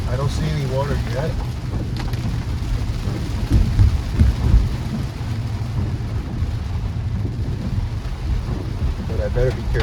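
Steady downpour hammering a moving car in Brickell, Miami, a constant loud hiss of rain over deep road and engine rumble, with faint speech now and then.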